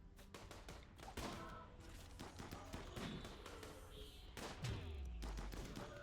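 Rapid bursts of gunfire in the game Rimworld pound a revenant, dense overlapping shots with heavy thumps running continuously and loud throughout, with no talking.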